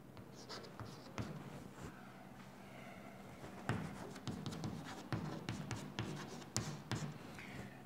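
Chalk or marker strokes across a classroom board during a physics lesson on rotational kinematics, a steady run of close scratchy taps and sweeps with small pauses between words, no talking over it.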